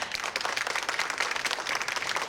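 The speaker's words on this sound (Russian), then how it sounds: "Аплодисменты полные!" Concert-hall audience at a Moscow holiday concert for the Defender of the Fatherland Day claps in a brief, even burst of applause, moderately distant and soft.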